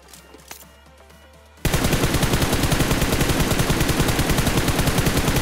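Sustained automatic gunfire from the mobile battle royale game BGMI, a loud rapid burst of shots that starts abruptly after a quieter stretch and keeps rattling steadily to the end.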